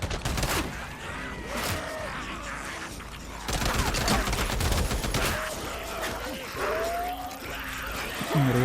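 Enemies firing guns in the PlayStation game Days Gone, with bursts of rapid gunfire and crashes that carry on steadily across the clip and sit under occasional voice sounds.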